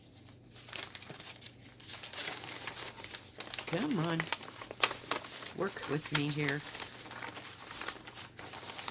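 Plastic kit bag for cross-stitch supplies being crinkled and handled at close range, soft crackling rustles scattered across the clip while someone talks over it.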